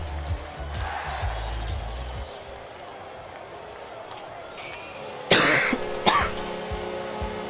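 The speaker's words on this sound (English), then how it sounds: "Sorry, I was mid-cough." A cough during a live broadcast of a Monday game between the Ocean City Typhoons and the Orlando Otters, two brief bursts close to the microphone over a busy arena background.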